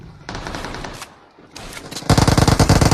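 Rapid automatic gunfire in the mobile battle royale game PUBG Mobile, loud and close, with bursts that build into a sustained, dense rattle of shots at the end, no talking.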